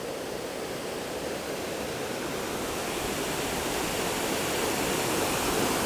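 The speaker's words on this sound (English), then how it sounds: "But I think that does make a pretty spectacular" A waterfall in an Ithaca, New York gorge roars as a steady, broadband rush of falling water, loud and unbroken, gradually swelling slightly.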